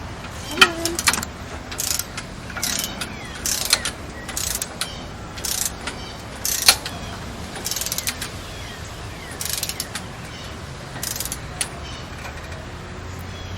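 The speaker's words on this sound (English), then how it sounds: "at 15 foot-pounds, the click is very small" Torque wrench set to 15 foot-pounds being tightened on an air-cooled VW engine, giving repeated bursts of faint ratcheting clicks at close range over a steady low background hum.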